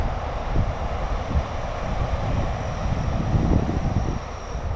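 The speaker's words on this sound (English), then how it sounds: "Wow, another train going by immediately afterwards." A train passes at night beside a riverbank in Japan, a broad, loud, continuous rumble and roar that holds steady throughout with wind buffeting the microphone.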